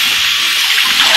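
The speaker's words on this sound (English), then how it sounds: "We're going to add the water" Water pours steadily into a pan of apples while making apple cider: a continuous, close, rushing splash with no talk over it.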